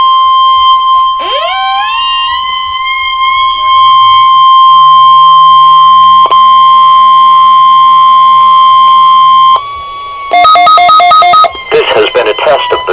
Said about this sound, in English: This has been a test of the NOAA All Hazards Weather Radio Alarm System.